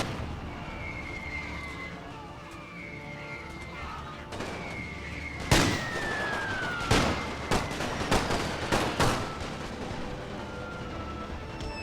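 Gunfire in the World War One strategy game The Great War 6.0, with tanks and combat engineers on the field: a series of sharp shots and bursts building up over several seconds, above a background hum and whistling tones, no talk.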